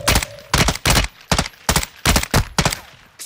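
Bursts of automatic gunfire in the Warzone 2.0 video game, about six sharp, loud volleys in a steady rhythm separated by brief gaps, close by.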